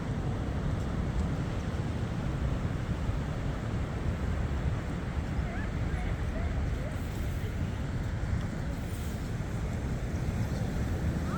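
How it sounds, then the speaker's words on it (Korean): Strong wind blows hard across the microphone at Yeongildae Beach in Pohang, with heavy surf crashing behind it. The roar stays loud and constant throughout. "오늘 바람이 많이 불어서 파도가 엄청 치는 편입니다"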